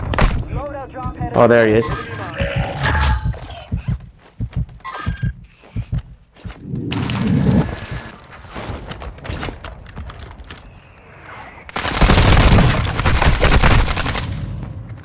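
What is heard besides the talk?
gunfire in video game Call of Duty Warzone 2.0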